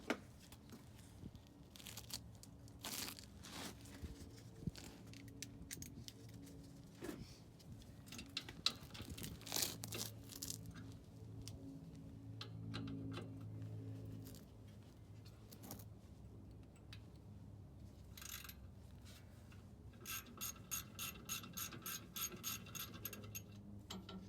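A ratchet wrench clicks in bursts while car brake caliper bolts are loosened and removed, close and crisp, with clanks of tools and parts between, and a fast ratcheting run near the end.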